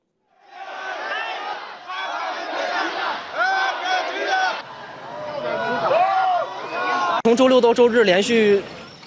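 Excited football fans greeting Messi's Argentina team bus, loud overlapping shouts and cheers from a nearby crowd, a sharper burst of yelling near the end.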